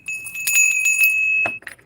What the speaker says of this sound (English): Got the brass bell.